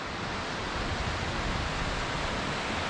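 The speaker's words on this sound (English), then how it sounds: "by the sound of the water rushing" Steady, dense rush of flowing creek water in Cloudland Canyon, Georgia, continuous and fairly close, with no other sounds standing out.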